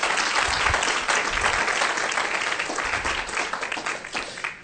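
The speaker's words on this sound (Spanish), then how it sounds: "Dele ese fuerte aplauso al Señor." A church congregation breaks into strong, sustained applause during a Spanish-language sermon, dense and steady throughout, fading slightly toward the end.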